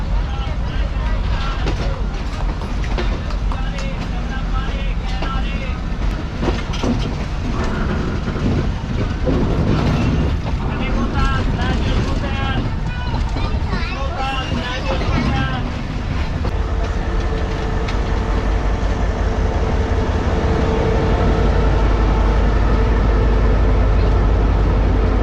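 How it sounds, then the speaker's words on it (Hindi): The Pakistan Express train rolls through Kotri Junction on platform 3 with a steady rumble and rhythmic clickety-clack of wheels on rail joints. The sound is loud and close, and people talk over it for much of the time. "हमारी ट्रेन जो है वो प्लेटफॉर्म नंबर 3 से स्किप करेगी कोटरी जंक्शन को।"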